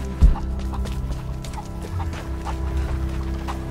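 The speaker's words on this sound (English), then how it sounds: "Chickens, come back here!" Chickens cluck in Rise of the Tomb Raider, scattered short calls over a low rumbling game ambience, with one louder thump near the start and soft, irregular clucks after it.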